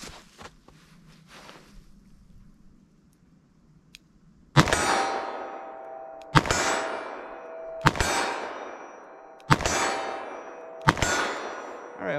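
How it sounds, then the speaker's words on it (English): .357 Magnum rounds strike steel targets in five loud, evenly spaced shots about one and a half seconds apart, each a sharp crack followed by a ringing metallic clang that fades out, after a few quieter handling noises. "357 mag, let's see what I can do with this."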